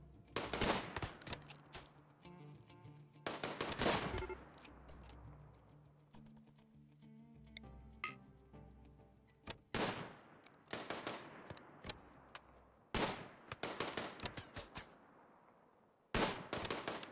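Gunfire in the colony-building video game Rimworld crackles in sharp bursts of rapid shots, several clusters spaced across the stretch with quieter gaps between, fairly faint and without speech.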